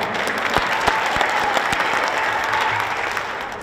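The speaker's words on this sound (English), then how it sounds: "Stand up, you get an extra round of applause." Loud, close audience applause for teachers at an MLK Day event, dense steady clapping with a few sharp individual claps standing out, continuing evenly without speech.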